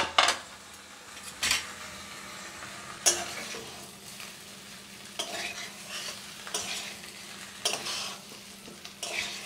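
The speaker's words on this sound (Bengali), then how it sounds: "বেগুনের সাথে সমস্ত উপকরণ একসাথে নাড়াচাড়া করে দিচ্ছি।" Fish egg curry with fried eggplant is stirred in a pan, the ingredients sizzling steadily while a utensil scrapes and clacks against the metal in irregular bursts, close up.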